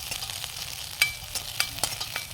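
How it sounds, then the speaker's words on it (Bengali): Eggs being fried and stirred into a scramble in a pan, with a soft, steady sizzle broken by several sharp scraping clicks as the mixture is moved around. "আমাদের আন্ডা ভাজা, ভুজিয়া"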